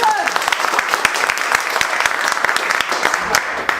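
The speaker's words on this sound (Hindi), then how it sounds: "एक बार जोरदार ताली बजाओ" A room full of students claps loudly during a mobile phone repair class, sharp, dense applause with distinct individual claps ringing out, sustained for a few seconds.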